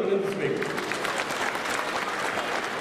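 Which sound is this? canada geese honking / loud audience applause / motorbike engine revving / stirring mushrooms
loud audience applause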